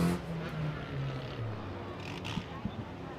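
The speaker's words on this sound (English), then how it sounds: "Second compact heat pulling onto the Speedway" Compact division race cars roll onto a speedway at the Ohio Invitational, a steady low engine drone from several cars at moderate distance, with faint crowd and track ambience.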